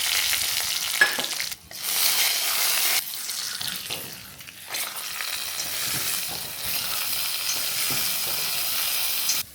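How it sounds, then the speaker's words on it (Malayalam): Mustard seeds and dried red chillies splutter in hot oil for a Kerala tempering, a loud crackling sizzle with brief dips, sharp pops scattered throughout, close up and without speech. "ഇനി കടുക് പൊട്ടിക്കണം. ഇതിൽ കുറച്ച് വറ്റൽമുളക്,"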